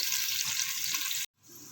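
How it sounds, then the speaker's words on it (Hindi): Onions fry in oil in a pot with a loud, steady, dense sizzle. It cuts off abruptly, then comes back more softly, and no one talks over it. "ये देखें, हमने प्याज डाल दिया है और अब हम इसको डार्क ब्राउन करेंगे।"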